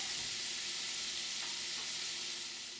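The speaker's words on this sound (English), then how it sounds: "Turn this down because we just need to saute that." Bell peppers sauté gently in a pan over lowered heat, producing a soft, steady hiss of frying that stays even and fades slightly at the end, with no talking.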